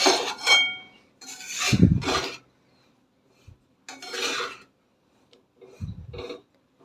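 Ragi flour roasting in ghee in a pan is stirred in a few separate scraping strokes, with dry rasps of the spoon against the pan and short quiet gaps between them.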